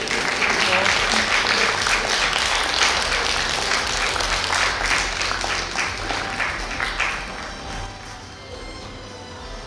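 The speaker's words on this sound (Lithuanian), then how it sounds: "Aplodismentai." An audience applauds at the Aukso Paukštė award ceremony for the Dubysa ensemble after a mixed choir is introduced, with dense, steady clapping that fills the hall and slowly thins toward the end.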